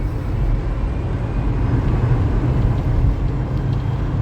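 Low, steady rumbling drone of a converted electric car's motor held at full throttle around 10,000 rpm, continuous and fairly loud with a faint high whine over it.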